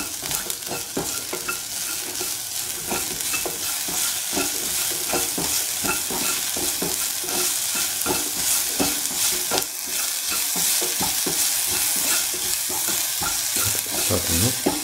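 Spinach and scrambled egg stir frying in a pan, with a steady loud sizzle and repeated scraping and stirring strokes of a utensil throughout, no voices.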